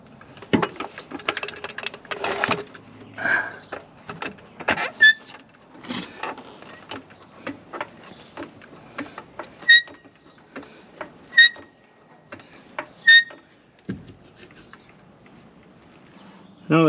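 A hay baler wheel hub, jacked up with the tire still on, turns after its castle nut is tightened, giving soft intermittent clicks and faint rattles, close by and spaced apart, with a few louder knocks.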